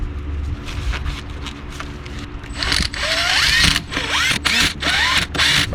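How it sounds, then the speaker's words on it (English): Ratchet clicks and metallic turning as screws are run back into the transmission pan of a 2nd gen Dodge Ram with a 46RE automatic, in short bursts that grow louder in the second half. "Just go ahead and reinstall your screws."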